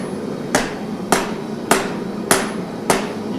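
Five evenly spaced hammer blows ring out on hot steel being forged into a tall chef's knife. Each strike is a sharp, loud metallic hit about half a second apart, with a quiet hum between them and no talk.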